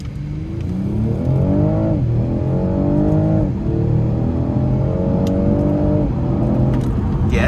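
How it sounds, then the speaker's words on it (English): A 2026 BMW 540i xDrive in sport mode accelerates hard on paddle shifters, the engine note rising loudly and climbing through several quick upshifts, heard from inside the cabin with no talking. "what you expect from a BMW in terms of the acceleration, the sound is great"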